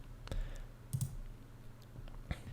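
A computer mouse clicks a few times, sparse sharp taps close to the microphone against a quiet room hum, while colours are chosen in the Notion app.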